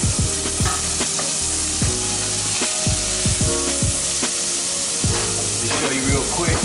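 Tilapia fillets browning in a frying pan with a little tomato, crackling in a loud, dense sizzle broken by frequent spatula scrapes and taps, close up and without voices.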